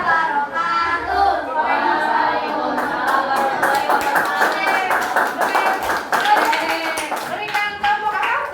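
A classroom of students performs a rhythmic clapping chant, voices chanting together over sharp, steady hand claps that run throughout, loud and close.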